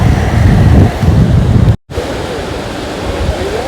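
Heavy floodwater rushes beneath a bridge in the Monroe area, a loud, continuous roar that cuts out for an instant before resuming.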